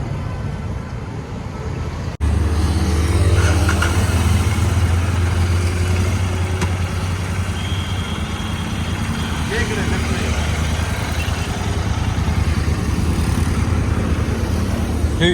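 A Royal Enfield Continental GT 650 motorcycle engine starts loud and close after a brief quiet moment, then holds a steady low rumble throughout while riding, with voices talking over it.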